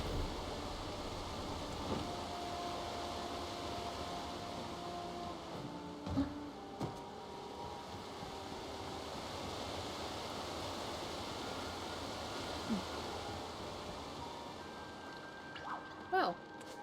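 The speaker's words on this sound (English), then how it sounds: "Lovely waterfall." Steady broadband rush of a waterfall in the video game Palia, a constant soft wash of falling water holding even throughout, with faint game chimes and brief clicks scattered on top.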